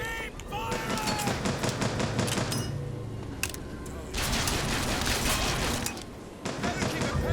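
Dense gunfire from BioShock Infinite crackles in rapid bursts and sustained volleys with short pauses between them, loud and close. Shouted voices from the game mix in with the shooting.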